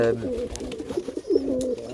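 A homozygous almond stipper pigeon coos in soft, low, repeated rolling phrases close by, with a person talking over part of it.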